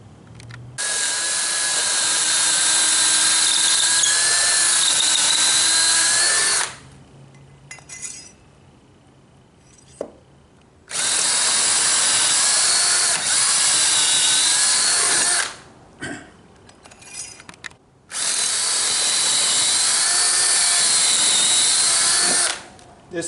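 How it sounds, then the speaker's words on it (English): A power drill in a drill fixture bores a 1/4-inch hole into a post for a cable bullet railing install, whining loudly in three long bursts of several seconds each, separated by quieter clinks and handling noise. "drill a 1/4 inch hole to that depth, and then we'll follow up after that and drill the 1/2 inch hole"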